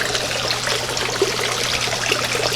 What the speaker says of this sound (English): So if you want to go ahead and turn on the waterfall,